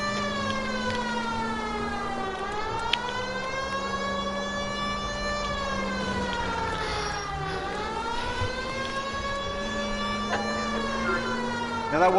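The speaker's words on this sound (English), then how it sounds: "We have to put the sirens up though," A police car siren in the video game L.A. Noire wails, rising and falling in long sweeping cycles, loud and steady throughout, with a continuous engine drone underneath.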